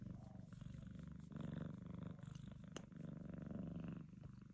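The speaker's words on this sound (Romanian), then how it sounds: "Toarce chiar." A relaxed house cat purrs steadily and close up, a low continuous rumble that swells slightly in places, with no talking over it.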